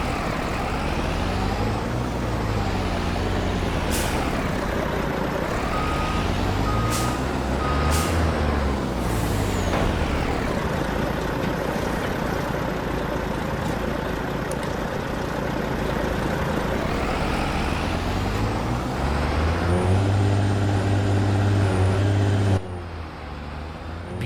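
A Peterbilt day cab truck in Farming Simulator 22, its engine revving up and down repeatedly with sharp air brake hisses and reversing beeps, loud and close throughout.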